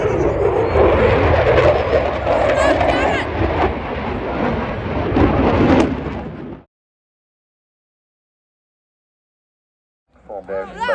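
An aircraft from a wingwalking team at an air show in Swansea, Wales roars past loud and steady for about six seconds, then cuts to silence before a voice begins at the end.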